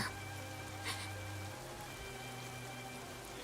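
Steady rain falls in a Goddess of Victory: Nikke game cutscene, a continuous soft hiss with a low droning hum beneath it and one brief brighter splash near the start, with no voices.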